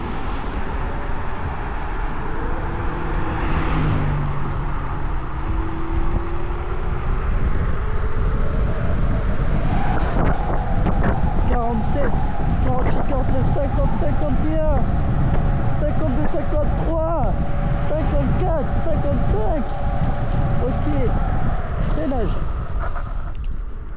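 An Ausom L1 electric scooter accelerates, its motor whine rising in pitch and holding steady over loud wind and road noise, with a voice speaking over it.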